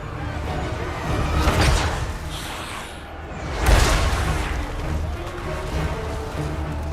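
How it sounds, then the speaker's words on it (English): Artillery barrage in Total War: Warhammer 3, heavy booming blasts and rumbling impacts swelling around the middle and at the end over a dense, continuous battle din. "I'm just going to target all my artillery on him"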